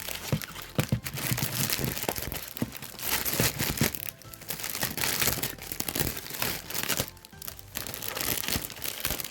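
Tape being peeled and pulled off the plastic packaging of a Kinder surprise toy, heard close up as continuous crinkling and tearing with short pauses and no speech.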